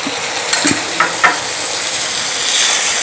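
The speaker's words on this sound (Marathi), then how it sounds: "टोमॅटोची प्युरीसुद्धा आपल्याला या कांद्याबरोबर छान एक दोन मिनटे परतून घ्यायची आहे" Tomato puree and onions sauté in a pan for egg tawa masala, giving a loud, steady sizzle with a few scraping stir strokes early on and no talking.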